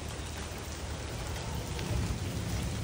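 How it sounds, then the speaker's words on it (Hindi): Heavy rain pours steadily outside a home during a downpour, a dense, continuous hiss with low rumbling undertone, loud and unbroken throughout with no voices. "ये देखें कितने मज़े की बारिश हो रही है"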